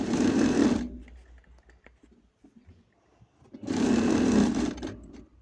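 A sewing machine stitches a seam in two loud, close bursts of rapid whirring, the first under a second long and the second about two seconds, separated by a quiet gap with faint handling noises.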